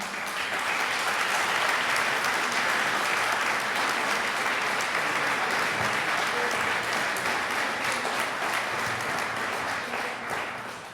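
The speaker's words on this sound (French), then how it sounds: "après cet hommage à Yannick et Nathalie, j'aimerais vraiment une bonne main d'applaudissements aussi pour les bénévoles d'Entraide" Audience at a community fundraising event applauds the volunteers, a long, even wash of clapping from a sizable crowd, steady and full for several seconds before tapering slightly at the end.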